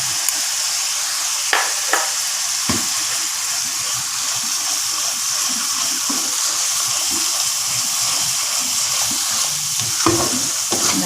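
Onions and ground chili paste fry in hot oil for nasi lemak, a steady close sizzle with occasional stirring scrapes and clinks against the pan.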